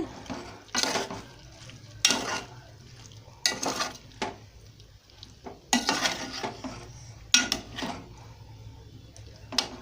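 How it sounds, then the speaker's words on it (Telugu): Spatula scraping and stirring bottle gourd and tomato curry in a pan, in repeated short bursts of scraping against a steady low hum, with no talking. "కిందకి పైకి కలిగి తిప్పాలి."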